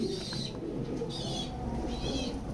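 Male pigeon from a loft pair cooing in soft repeated bursts, close by, with steady low background noise throughout.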